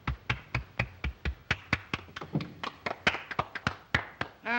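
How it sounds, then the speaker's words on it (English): Slow, spaced claps by a small group of people, roughly twenty sharp separate hand strikes at an uneven pace, close and clear with no crowd wash behind them. "Applaud."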